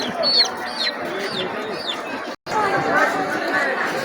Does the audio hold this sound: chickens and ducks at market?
yes